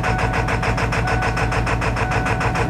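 Ford engine idling roughly just after a cold start, as if not all cylinders are firing yet, a steady loud uneven pulsing throb held close up throughout with no talking.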